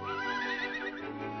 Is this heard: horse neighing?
yes